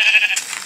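A single short sheep bleat from Minecraft Pocket Edition, a bright, wavering synthetic bleat close and clear, fading out quickly.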